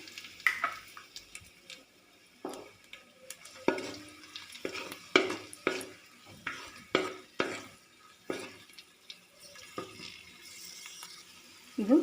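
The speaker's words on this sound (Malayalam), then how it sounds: "ഇതേ എണ്ണയിലേക്ക് തന്നെ കുറച്ച് ഉണക്കമുന്തിരിയും കൂടെ വറുത്തെടുക്കാം." Raisins frying in the oil left over from frying for an egg biryani, giving a quiet sizzle broken by a dozen or so sharp scraping and clinking stirs of a spoon against the pan, close and otherwise still.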